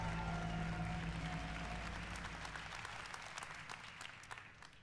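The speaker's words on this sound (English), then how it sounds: "Feels weird to have people clapping at that." Audience applause at the Ubisoft E3 2017 conference, a dense wash of clapping that starts loud with a low hum beneath it, then thins and fades over the last seconds.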